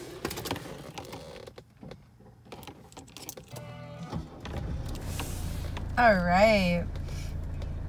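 A 1982 Mercedes-Benz 300SD turbo diesel starts up: a few clicks and creaks, then the engine catches and settles into a steady low rumble with a brief whine on top. Someone speaks briefly near the start.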